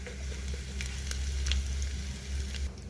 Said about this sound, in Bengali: দেবো জিরে ফোড়ন আর দেবো একটুখানি হিং ফোড়ন